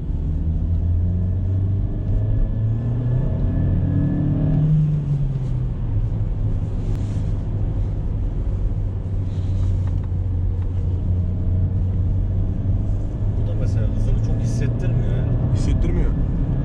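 A 2010 Volkswagen Tiguan 1.4 TSI Sport Style being driven, heard from inside the cabin: a steady low engine and road rumble that holds throughout, under continuous talking.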